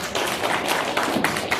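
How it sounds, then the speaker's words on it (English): A round of applause for Assemblyman Lester Chang at a political training event, steady dense clapping from a room audience, brief and moderately loud with no talk over it. "So round of applause for Lester."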